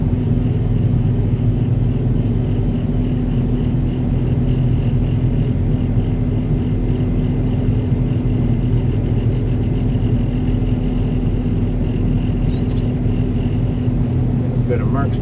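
Heavy wheel loader engines working a material pile, a steady loud diesel rumble with continuous low drone and shifting revs, close by and unbroken throughout.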